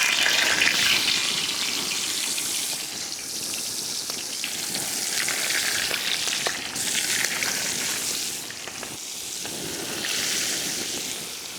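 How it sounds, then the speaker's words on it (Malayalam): Pearl spot fish (karimeen) sizzles loudly in hot coconut oil, a dense crackling hiss that swells and eases with a few sharp pops. "കരിവാണ കരിമീനെ നമ്മൾ ഇതേ എടുത്ത് നേരെ എണ്ണയിലിട്ട് പൊരിക്കുകയാണേ"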